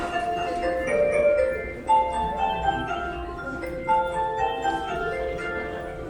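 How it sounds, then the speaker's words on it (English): The Yukaina Bokujo departure melody at Kyobashi station on the JR Osaka Loop Line plays a cheerful chime-like tune over busy platform ambience with faint background crowd noise. "Kyobashi's melody is Yukaina Bokujo, which is apparently a relationship to the lively food culture"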